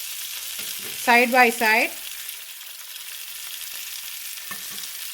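Beefsteak fries in garlic butter in a pan, a steady soft sizzle running under the whole stretch while a person speaks briefly near the start.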